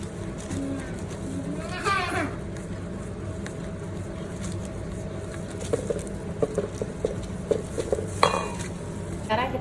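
Cookie batter with oil is stirred in a bowl, giving soft scraping and light tapping strokes that grow more frequent toward the end, faint under a steady background hum.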